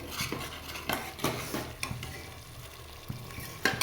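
Masala of turmeric and red chili roasting in a pan for a potato curry, with a spoon stirring and scraping in irregular strokes over a steady close sizzle; no voices.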